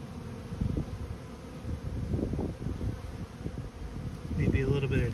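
Honeybees swarm around a hive colony in a bee yard, robbing and defending, a dense steady buzzing hum up close with faint wind noise and brief passing drones.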